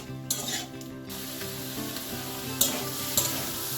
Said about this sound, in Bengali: এবারে কড়াইতে সামান্য একটু তেল দিয়ে সোয়াবিনগুলো একটু ভালো করে ভেজে তুলে নেব